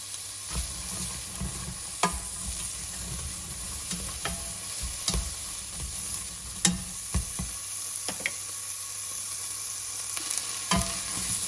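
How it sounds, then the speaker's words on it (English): Butter and a dribble of oil sizzling in a pan while cooking Guyanese food, a steady crackling fry with occasional clicks and scrapes of stirring. "So now that that's sizzled up a bit, that's good."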